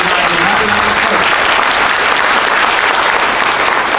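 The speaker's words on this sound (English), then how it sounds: "Give them a round of applause" Dense audience applause fills a Valor Awards ceremony hall, loud and steady clapping from a large crowd throughout.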